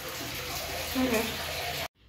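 Tap water runs in a steady, fairly loud broadband rush for nearly two seconds, then cuts off abruptly into quiet.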